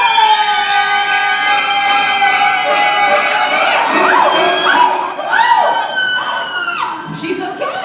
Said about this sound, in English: Take a look at the side screens and scream on 3, Nika.